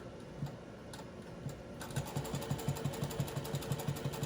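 A sewing machine stitches a blouse for a girl doll, giving a quiet, steady mechanical ticking whose rhythm speeds up into regular rapid stitching partway through, with no talking.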